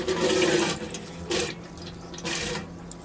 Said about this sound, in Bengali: এগুলো শুটকি, পুঁটি শুটকি, এগুলো আমি ভালো করে ধুয়ে নিছি